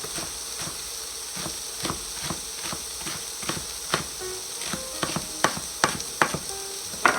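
A kitchen knife roughly chops rolled-up mustard green leaves on a cutting board in a string of sharp, close knocks, spaced unevenly at first and then coming quicker, with no talking.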